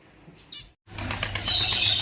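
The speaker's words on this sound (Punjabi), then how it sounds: "ਪੰਛੀ ਆਪਾਂ ਪਰਿੰਦੇ ਛੱਡਤੇ ਆਪਣੇ ਕੇਜ ਦੇ ਵਿੱਚ ਵੱਡੇ ਦੇ ਵਿੱਚ" Birds flap their wings in a quick rustling burst inside a large cage after a brief pause, with faint chirps close by.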